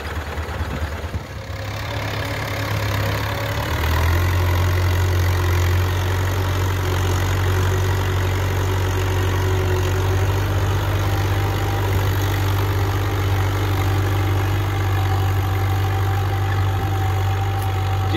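A New Holland Dabung tractor hitched to an 18-disc harrow idles outdoors with a steady, loud, low throb that continues unchanged throughout, with no talk.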